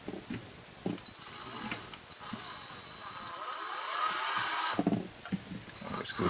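A power drill drives a longer screw across the front of a casing, a steady whining motor run with short bursts and pauses, close and fairly loud.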